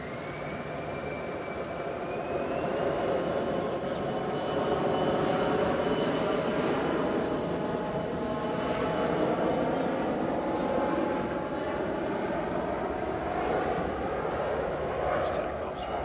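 A jet airliner takes off at Nashville International Airport, its engine roar loud and sustained throughout with a slowly rising whine.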